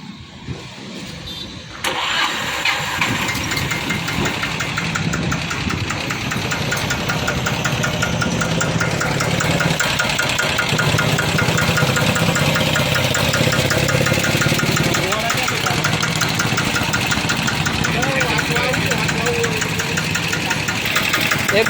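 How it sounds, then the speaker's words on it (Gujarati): A 10 hp mini tractor sanedo engine cranks over and starts, then settles into a loud, steady knocking run close by, with a voice faintly underneath. "હવે તમને અમે ચાલુ કરીને બતાવી એનું એન્જિન પાવર બધું."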